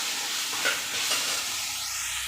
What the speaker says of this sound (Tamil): அந்த மாதிரி நல்லா வதக்கிக்கலாம்.